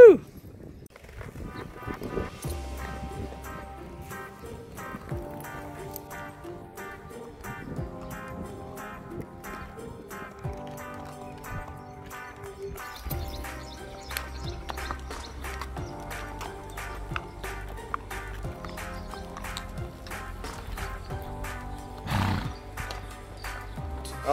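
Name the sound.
horse walking and neighing during a ride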